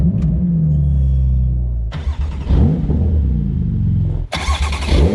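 A Porsche GT2 RS is idling, then bursts to life with a sharp, loud surge into a deep, throaty rumble, followed by another sudden hard rev near the end, close up.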